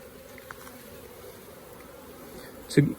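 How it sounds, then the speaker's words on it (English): Steady low honeybee buzzing hums throughout, like a mass of bees close by, with a brief louder burst near the end. "300 bees is a lot of bees"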